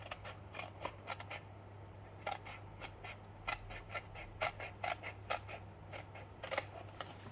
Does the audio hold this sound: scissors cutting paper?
yes